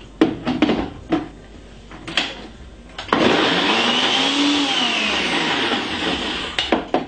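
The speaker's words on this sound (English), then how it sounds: "I'm just gonna be blending this in about 2 seconds." A blender whirs through a Jamaican wedding fruit cake mixture with red label wine, a loud continuous motorized churn lasting about three seconds, preceded and followed by scattered clinks and knocks.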